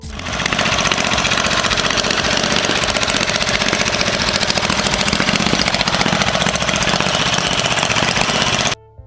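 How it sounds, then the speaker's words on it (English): A 1915 Cyclone Board Tracker motorcycle runs its 61 cubic inch, 1000 cc overhead cam V-twin with a loud, steady, rapid mechanical drone that cuts off abruptly near the end. "Powered by a 61 cubic inch or 1000 cc overhead cam V-twin engine"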